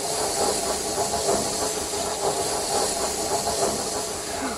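Two steam engines hiss steadily and loudly, a broad continuous rush of escaping steam with a faint rhythmic chuffing underneath, no talk.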